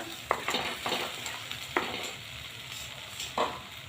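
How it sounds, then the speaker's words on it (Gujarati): Gravy for shahi paneer is sautéed and stirred in a pan, a faint continuous sizzle with several quick scraping strokes of a spoon at irregular intervals. "ગ્રેવીને આપણે સરસ મજાની શેકવાની છે એકવાર"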